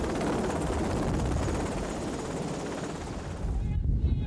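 A helicopter sits running on a ship's flight deck, its rotor and engine roar a dense, steady wash of noise with wind buffeting the microphone, loud and close throughout.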